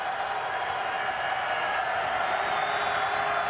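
At a 2018 college football game between Utah State and Colorado State, a modest crowd in bad weather keeps up a loud, unbroken roar of cheering. It stays broad and even, with no single voice standing out.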